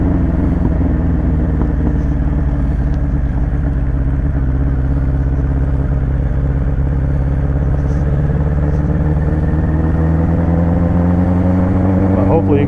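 A cold motorcycle engine idles loud and close, holding a steady low rumble with a slight rise in pitch toward the end.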